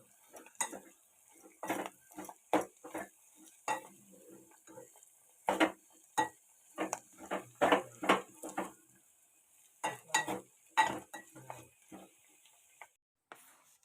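A spoon scraping and clinking against a pan while stirring amaranth leaf curry with turmeric, a series of light, irregular taps and scrapes, close and fairly quiet.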